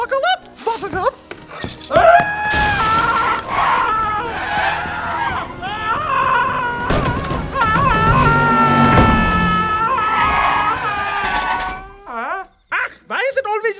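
Cartoon characters in a werewolf-themed animated episode with three little pigs shout and scream in high, wavering voices, loud and nearly continuous over about twelve seconds, mixed with excited dialogue and bursts of action sound.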